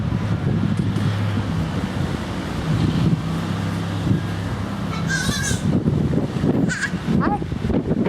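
Strong wind roars and buffets the microphone in continuous low gusts, and a few crow-like caws break through midway.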